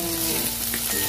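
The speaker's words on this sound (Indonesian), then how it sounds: "kita masukkan kita oseng seperti ini sampai bawangnya harum ya dan berubah warna" Garlic and shallots stir-fry in a pan for an Indonesian nyemek noodle dish, giving a close, steady sizzle with a faint hum behind it.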